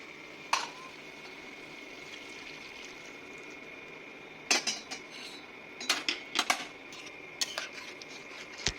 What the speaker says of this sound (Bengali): তো দেখো এবার আমি গরম জলটা ওই তরকারিটার সঙ্গে যোগ করে দিচ্ছি